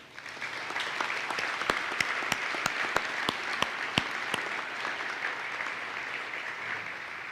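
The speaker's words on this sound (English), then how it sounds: "A big round of applause for all of them." Steady audience applause at a NASA event in the Kennedy Space Center shuttle hangar leased to Space Florida for Boeing Starliner, a dense even patter with a few sharper near claps, continuing for several seconds without speech.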